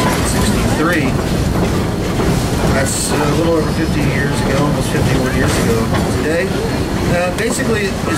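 A heritage train rumbles steadily along the rails through redwood forest with rhythmic clatter and hiss, loud and continuous, while a voice talks over it.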